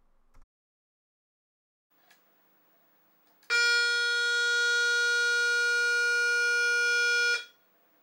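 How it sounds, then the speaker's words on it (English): Alarm tone from a vintage Bulgarian electrocardiograph built around a Motorola 6800 computer: after a couple of faint clicks, a loud steady electronic buzz sounds alone for about four seconds, then cuts off. "And just listen to this alarm sound, guys."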